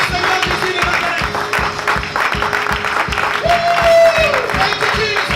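Church congregation at a worship service applauding and cheering together, steady dense clapping with crowd voices over a rhythmic beat, sustained and loud throughout.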